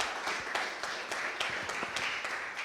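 Church congregation applauding the Lord, a steady wash of many hands clapping at moderate distance, fairly faint, with no speech over it.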